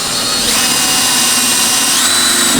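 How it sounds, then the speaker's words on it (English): A power drill bores a hole through the frame of an Argo Frontier, a loud, close, continuous whine that steps up in pitch partway through. "We're just going to put a hole in this frame"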